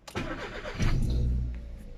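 A car engine cranks and fires up nearby, settling into a loud, steady idle rumble with no talking over it.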